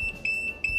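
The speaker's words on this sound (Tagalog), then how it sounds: "kaya nag-alarm ang ating buzzer" Trip alarm buzzer on an electrical circuit breaker setup: a loud, steady high-pitched electronic tone pulsing rapidly in short repeated bursts, heard up close with no talking.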